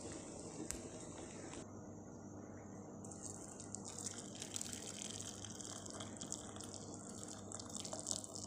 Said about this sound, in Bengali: এবার আমি চাটা কাপে ঢালি